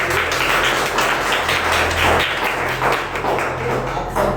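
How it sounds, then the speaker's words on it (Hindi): Loud, dense applause for the college teachers and principals at a student appreciation ceremony at NIPS College, with many hands clapping continuously and sharp taps scattered through it over a low electrical hum. "तो उनके लिए एक बार जोरदार तालियां"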